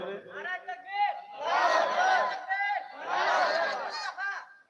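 Crowd at an outdoor Bengali religious sermon gathering raising loud takbir chants in unison, two swelling collective shouts with a single voice leading in between.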